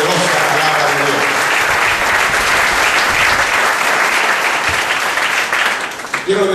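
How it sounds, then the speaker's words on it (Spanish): Loud, enthusiastic applause from a church congregation during a morning Spanish-language service, dense clapping filling the room with voices mixed in, dropping off near the end. "Denle un aplauso en esta mañana a la poderosa palabra de Dios."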